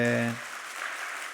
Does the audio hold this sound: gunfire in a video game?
no